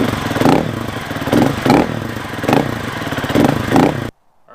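A cold motorcycle engine idles through its stock muffler end cap, a loud, close, rough pulsing exhaust with slight rhythmic swells before cutting off abruptly.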